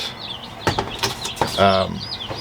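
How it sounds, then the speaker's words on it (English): Baby chicks give sharp cheeps and a short clucking burst close by, mixed with rustling and a brief flutter, in a few separate bursts. "we got the chickens"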